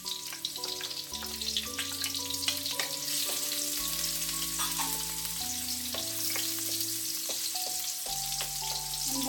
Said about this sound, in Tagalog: Isusutay natin yung garlic. Tapos sunod natin yung onion.